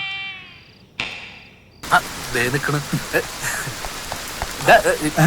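Steady rain patters on a surface with scattered drips, while people talk over it; a brief tonal cry and a sharp burst come early on.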